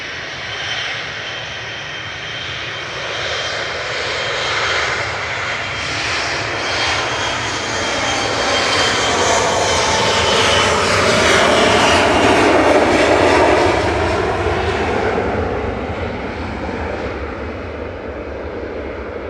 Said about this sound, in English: KLM's departing with flight 1038 to Amsterdam.